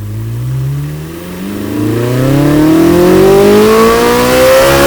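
A high-revving flat-plane V8 engine in a Corvette Z06 screams nearby, dipping briefly, then climbing hard in pitch and loudness into a sustained, piercing wail.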